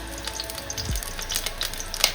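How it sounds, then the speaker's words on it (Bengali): Hilsa fish fry in mustard oil in a wok with a steady, close sizzle and faint crackles throughout the short stretch. "মাছগুলোকে একটু ভাজবো। তার জন্য মাছগুলো দিলাম সরষের তেল"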